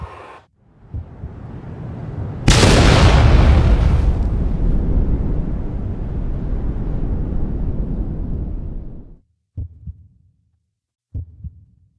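Tsar bomb explosion in the sandbox game WorldBox, a sudden huge blast that roars loudly for several seconds, then fades and cuts off, followed by a few faint dull thumps.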